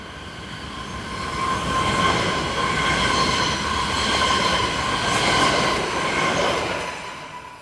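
Swiss passenger train unit 514038 on the mainline toward Winterthur passes close by, a loud sustained rumble of wheels on rail with metallic ringing and faint squeal, swelling and fading over several seconds.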